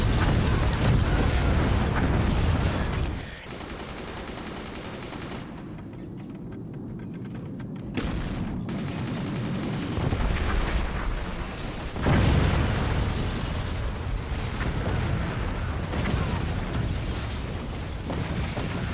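In a strategy video game, howitzer cannon drops set off dense, rumbling explosions, with a heavy sustained roar that dips briefly before loud blasts build again.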